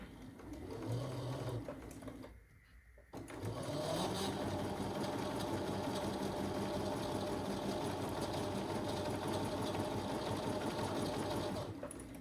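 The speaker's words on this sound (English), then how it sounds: "now we're going to sew a quarter of an inch on each side of the line" A sewing machine runs steadily, stitching quarter-inch seams on a quilt block. It drones loud and close almost throughout, with a short pause near the start and a brief low hum before it picks up again.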